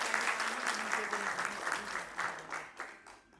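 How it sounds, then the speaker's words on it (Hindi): Audience applause at a Guru Purnima celebration held by a Vedic astrology institute, steady clapping from a gathered crowd that rises and falls in waves across the few seconds, with a faint voice underneath. "तालियों के साथ हम सबका स्वागत करते हैं।"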